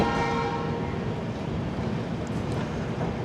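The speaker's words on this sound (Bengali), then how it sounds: "আমাদের ট্রেন এই মুহূর্তে এসে পৌঁছাচ্ছে মালদা টাউন স্টেশন" Tebhaga Express LHB rake pulling into Malda Town station, with a loud sustained horn blast at the start over a continuous rumble of wheels and carriages, heard close from on board.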